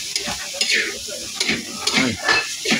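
Liver added to Kapampangan sisig sizzling in a pan, giving a steady hiss of frying broken by stirring scrapes and clinks of a utensil against the pan, heard close up.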